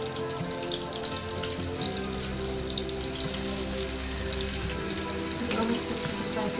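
Shrimp fry in a pan with onions for a shrimp and bottle gourd curry, with a steady, dense sizzle and a few light stirring clinks throughout.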